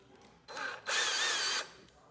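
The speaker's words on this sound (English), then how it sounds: "T8 screwdriver, Torx." A T8 Torx screwdriver, apparently powered, backing screws out of a Bose SoundLink Mini II speaker during a teardown: two close whirring bursts, a short one and a longer, louder one.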